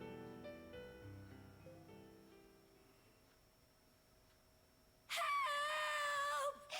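Kamoana yells loudly in the Tales of Berseria role-playing video game, a short, piercing high-pitched shout bursting in after quiet fading music.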